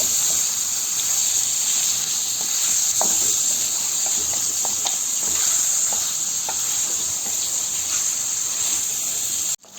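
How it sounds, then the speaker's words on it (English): Goat curry fries in a pan on high heat, giving a steady, bright sizzle with occasional soft stirring taps and crackles, close up and continuous until it cuts off at the end. "we're going to fry this for about 4 to 5 minutes on a high heat"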